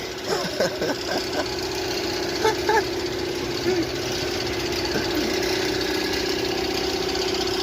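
A Cummins 2.8 diesel engine suffering low power runs at a steady idle close by, with a continuous drone and a few knocking bumps, while people talk over it.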